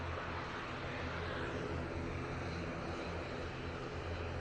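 A KLM airliner arrives at Manchester Airport with a continuous, broad engine rumble that holds steady throughout, heard alone and at moderate distance.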